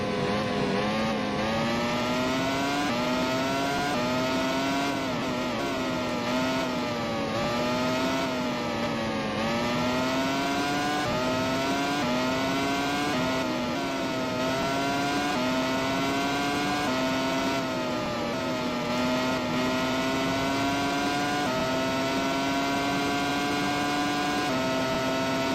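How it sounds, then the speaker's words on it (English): A big pack of racing cars in the Grand Prix 4 video game roars steadily throughout, with dense, layered engine whines rising and falling together as the cars battle closely, loud and continuous with no talk. "Big pack of cars battling up here"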